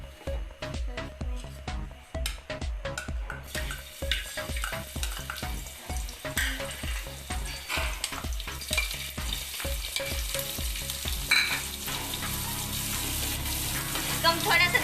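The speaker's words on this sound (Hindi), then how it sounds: "पहले हम इसमें डालेंगे ऑलिव ऑयल, अब हम इसमें डालेंगे चॉप्ड गार्लिक और अनियन।" Chopped garlic and onion fry in olive oil under a constant loud sizzle, with a regular beat of low thumping stirs or taps for about eleven seconds before settling into a steady crackle.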